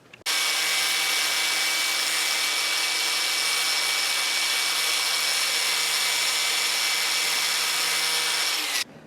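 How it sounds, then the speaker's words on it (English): An angle grinder cuts through a go-kart chain, a loud, steady high-pitched grinding whine that holds unbroken for about nine seconds before cutting off abruptly. "I'm going to go ahead and cut this with my angle grinder"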